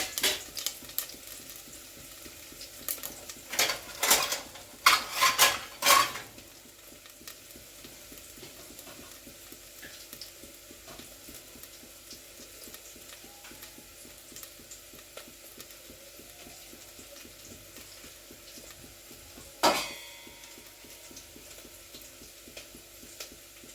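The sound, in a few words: onions and spices frying and being stirred in a pot for mutton biryani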